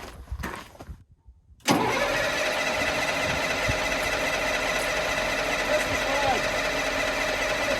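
A 5-ton M1085 military truck's diesel engine cranks and catches after a brief near-silent pause, then holds a loud, steady clattering run for the remaining several seconds, close by.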